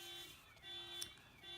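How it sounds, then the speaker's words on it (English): A car alarm sounds in a quiet room where a pop-up card is being made, a faint steady electronic tone with a high beep, ongoing and muffled from some distance. "apologies for the alarm that's just gone off"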